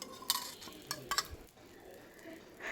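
A breakfast snack frying in oil and butter on a hot pan, with a soft steady sizzle broken by a few clinks and scrapes of a utensil, close and quiet.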